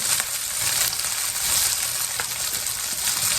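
Ground beef with green onion and garlic powder sizzles steadily in a hot skillet, a loud, dense, continuous frying crackle heard up close without any voices.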